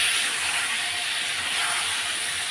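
Taro leaves and shrimp sautéing in a pan, giving off a steady, dense hiss of frying, loud and close, with no break and no voices over it.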